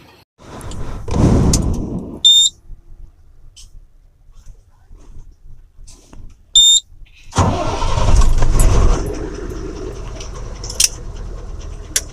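A diesel car pulls out of a fuel station on a cold morning, its engine surging loudly up close in two separate bursts with a quieter idle between them and a couple of sharp clicks.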